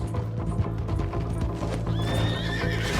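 In the video game Red Dead Redemption 2, hooves clip-clop rapidly over a background rumble, then a horse lets out a loud, high whinny near the end.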